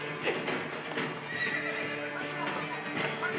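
Horse hooves clip-clop steadily in Assassin's Creed II while the horse neighs and snorts, a close, busy mix of hoofbeats and whinnies with no talking.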